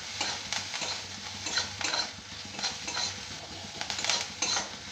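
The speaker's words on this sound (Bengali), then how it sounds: "পেঁয়াজগুলো একটু ভাজা ভাজা হয়ে গেলে" Sliced onions fry in a pan with a soft steady sizzle as a spoon stirs them, scraping and tapping the pan in repeated strokes, close and moderately quiet, without speech.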